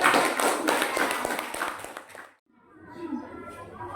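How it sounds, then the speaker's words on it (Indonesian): Classroom of students clapping hands together in a brisk, close round for about two seconds that stops abruptly, followed by quiet room sound and faint voices. "Kasih tepuk tangan dulu."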